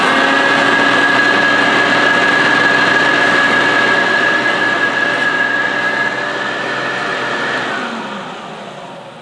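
A Hoover Turbopower Junior U1102 vacuum cleaner runs close and loud with a steady motor whine and a high tone, then winds down near the end.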